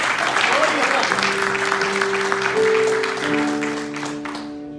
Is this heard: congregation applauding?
yes